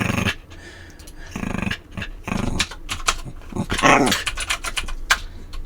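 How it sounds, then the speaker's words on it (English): A small dog growls in low rumbling bursts nearby, broken by short pauses and snuffly breaths. "It's a growly puppy."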